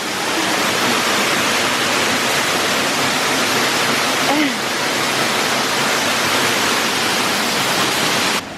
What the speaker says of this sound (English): we just found waterfall number 3 of 4